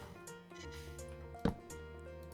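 Water poured from a bucket in Minecraft makes one brief, close liquid splash midway through, set against steady background game music.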